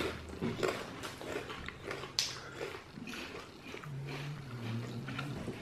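Microwave pork rinds, original and hot and spicy, chewed close up with soft wet crunching and mouth noises, fairly faint, plus a brief hum of enjoyment.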